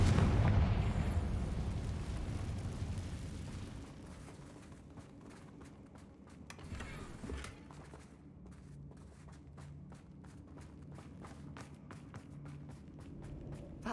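A fire spell explodes inside a dungeon in the Hogwarts Legacy video game, a loud rumbling blast that decays over several seconds into crackling and footsteps, with a second smaller burst later.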